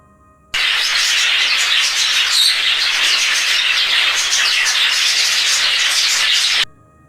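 A dense flock of birds swoops down over a town neighborhood: a loud, steady rush of fluttering wings and shrill chatter that starts abruptly, holds for about six seconds with no voices, then cuts off.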